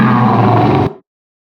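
A tiger roar played back by a simple coding app, loud and continuous for just under a second before it cuts off sharply into silence.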